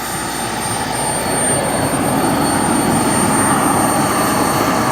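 Boomerang ATOM model jet in normal flight, a steady loud turbine roar and high whine holding level throughout, with no voices over it.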